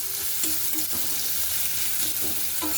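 Onion frying in a pan for a mustard pomfret fish curry, a steady moderate sizzle with a few brief stirring knocks over a short stretch.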